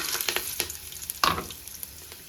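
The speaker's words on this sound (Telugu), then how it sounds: "ఇలా ఆయిల్ హీట్ ఎక్కిన తర్వాత ఇందాక మనం పెట్టుకున్నాం కదా బిర్యానీకి సంబంధించిన ఎసెన్షియల్స్ మొత్తం దీంట్లో వేసుకోవాలి" Biryani whole spices dropped into hot oil for a mutton dum biriyani, giving a quiet sizzle punctuated by several sharp crackles and one louder burst midway, close up and without talk.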